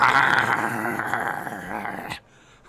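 A person's voice imitates a medium-sized dog snarling over a meal, producing a sustained, throaty growl that holds for about two seconds and then cuts off abruptly.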